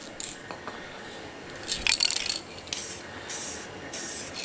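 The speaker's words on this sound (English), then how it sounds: "And you spray it in however you want to put it in." Several short hissing bursts of spray paint for hydro dipping, close by and fairly quiet, separated by brief pauses.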